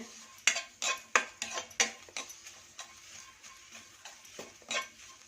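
Ingredients dry-roasting in a pan while a metal spoon scrapes and taps it in quick irregular strokes, close and fairly quiet, with a faint sizzle underneath and no talking.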